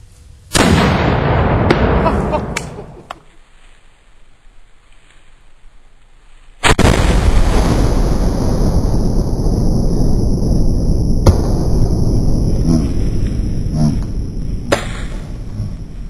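A 6-pounder French howitzer fires a round at a range: one loud, close blast with a long rumbling tail, then a second heavy boom that rolls on with sustained outdoor rumble and hiss.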